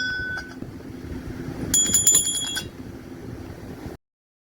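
Several bright metallic bell rings, small bells clanging together for about a second amid steady outdoor background noise.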